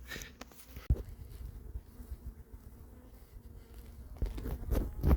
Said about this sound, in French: tout de suite, les abeilles sont sur moi